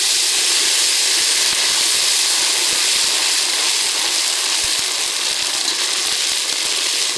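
Ginger paste frying in hot oil in a karahi for a rohu fish curry, a loud, steady, close hiss with no talk.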